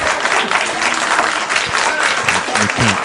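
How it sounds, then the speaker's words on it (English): Sustained audience applause from a standing ovation during a live radio broadcast, dense and steady clapping filling the room for about three seconds with faint voices mixed in beneath it. "this is called a standing ovation."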